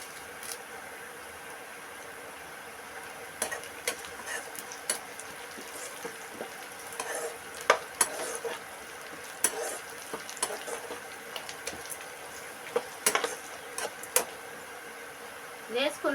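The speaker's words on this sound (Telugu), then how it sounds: "కరేపాకు మాడకుండా ఈ నూనెలోనే ఉడికేటట్టు బాగా వేసుకోవాలండి" Curry leaves fry in oil in a pan, giving a faint, steady hiss broken by scattered small pops and crackles over a long stretch, with occasional soft utensil clinks.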